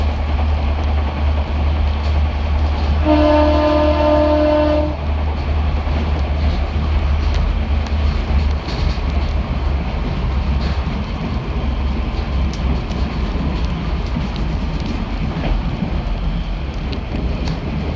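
A passenger train rolls into a station with a low steady rumble throughout, and a short two-tone horn or chime sounds early on over wind noise on the microphone.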